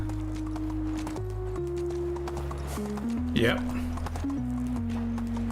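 Hooves of a ridden donkey in the video game Medieval Dynasty: a steady clip-clop under background music, with a person talking briefly.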